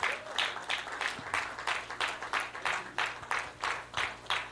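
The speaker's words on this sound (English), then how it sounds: "Can you please keep the applause rolling?" Faint applause at a female lawyers' conference, heard as a series of regular, rhythmic bursts of clapping, fairly distant and steady throughout.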